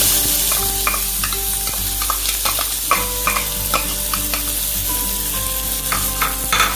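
Finely chopped onion frying with roasted garam masala in a pan, a loud continuous sizzle broken by repeated scraping and clinking strokes of a spoon stirring.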